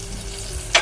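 Chopped onion and garlic hitting hot oil with whole cinnamon, cloves and bay leaves for a paneer matar masala, a steady close sizzle that flares into a brief louder burst near the end.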